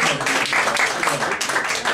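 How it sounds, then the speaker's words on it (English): Audience applause at a political campaign event for Chokwe Lumumba, a dense, steady wash of clapping close by that holds for about two seconds, with voices mixed into the crowd noise. "Give her a big round of applause."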